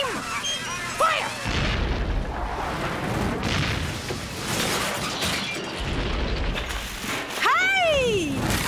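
A cartoon cannon fires with booming, crashing blasts amid a noisy chaotic scene, while cartoon voices shout and exclaim over the commotion.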